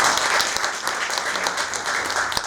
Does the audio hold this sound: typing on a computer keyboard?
no